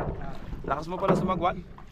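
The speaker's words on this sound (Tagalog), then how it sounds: "Lakas mo pala sumagwan." Paddles splash and dip through water in a quick rhythm as a boat is rowed, with wind rushing across the microphone and people talking nearby.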